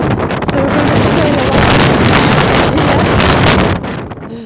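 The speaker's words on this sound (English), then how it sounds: "as you can tell it's just too windy" Strong, wet wind on a seafront on the Isle of Wight, roaring loudly and buffeting the microphone in a continuous blast that eases slightly at the end.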